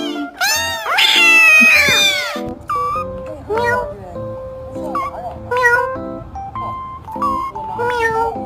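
A kitten meows again and again, loud and close, with high wavering cries at the start followed by a run of shorter meows, while a voice speaks over the sounds.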